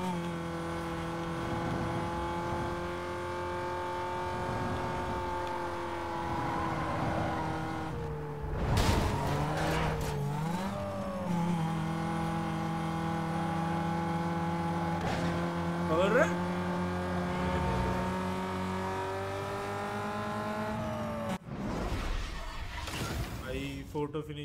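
Race cars in the sprint event of the video game NFS Most Wanted Black Edition, engines droning steadily with brief tire squeals and skids, under someone talking throughout.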